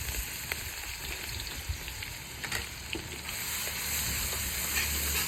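Crushed ginger and garlic fry in coconut oil for a pork fry, a dense steady sizzle with faint stirring ticks, building slightly louder toward the end, no voices.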